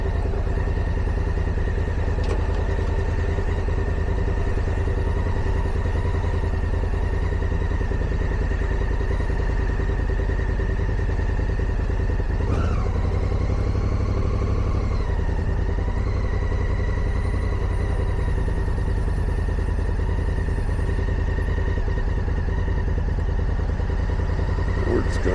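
Motorcycle engine idling and riding on Pikes Peak, a steady mid-pitched motor drone that stays loud and constant throughout with wind rush and occasional clatter.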